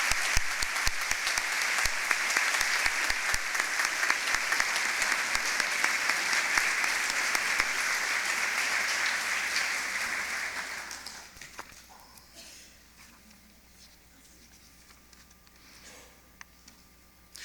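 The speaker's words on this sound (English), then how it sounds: "Please join me in another round of applause for this year's recipients." Audience applause at a Georgia Southern University convocation, a dense sustained clapping from a large crowd that holds steady for about eleven seconds, then fades into quiet room ambience.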